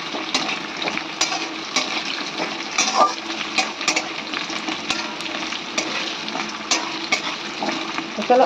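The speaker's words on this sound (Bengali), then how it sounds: "এবার আলুগুলো ভেজে নেব" Potatoes frying in a pan make a loud, busy sizzle broken by scraping stirs and clinks, continuing steadily with no talk.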